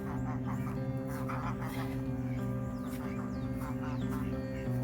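Ducks and ducklings call from a farm duck yard in a steady mix of quacking and peeping, with geese and goslings nearby, under a constant low drone that fills the whole stretch.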